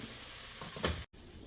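A hot pan of cheesesteak filling, heat already off, gives a steady soft sizzle with a brief stir or scrape near the middle, moderately close and without talking.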